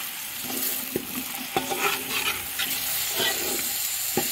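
Onions stir-fried in oil in a large pot for a two-kilo batch of chicken pulao: a steady close sizzle, broken by sharp scrapes of the spoon against the pan every second or so.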